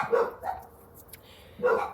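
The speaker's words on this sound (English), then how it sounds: "I apologize for the dogs." A neighbor's dogs bark from next door, two or three sharp barks at the start and another near the end, distant yet clear with quiet gaps between them.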